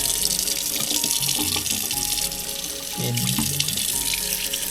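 Tap water runs steadily into a kitchen sink with a catch basket while a gutted trout is rinsed under the stream, a continuous close splashing flow with slight shifts as the fish moves.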